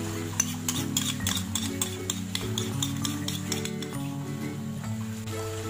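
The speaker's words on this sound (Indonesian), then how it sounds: "Aduk-aduk hingga rata." Squid stir-fry with mushroom broth, salt and oyster sauce being stirred in a pan: steady scraping and clinking of a utensil against the pan over a soft sizzle, with sharp metallic ticks recurring throughout and no talking.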